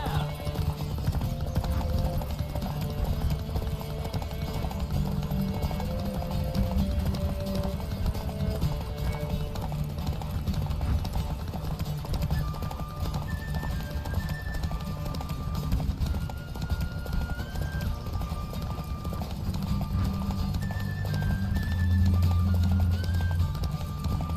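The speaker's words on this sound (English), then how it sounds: "Don't spare the horse!" Galloping hooves during a horse race in the video game The Witcher 3 drum steadily for the whole stretch beneath game music, with occasional voices and a swelling rush near the end.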